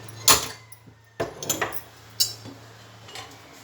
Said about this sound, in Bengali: গ্যাসের মধ্যে কড়াইটা চাপিয়ে দেবো।